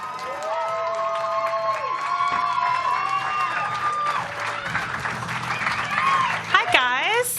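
A comedy club audience at a student showcase welcomes a comedian onstage, steady applause and cheering from a crowd, with a voice carrying over it and loud whoops rising near the end.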